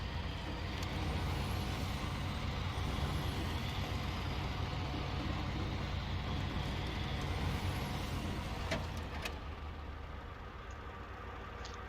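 A truck in the SnowRunner video game slips and slides across ice, giving a continuous rumbling engine drone with short hissing bursts near the end and no talking.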